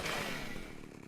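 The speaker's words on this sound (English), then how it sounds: "Rather not have to cut the dealer with my chainsaw." A chainsaw in the video game ARK Survival Evolved runs in a steady, loud buzzing drone for a moment, then fades slightly toward the end.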